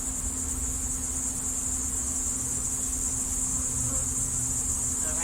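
Honeybees in a hive during comb repair, a dense continuous buzzing drone, close and steady throughout, with no talk.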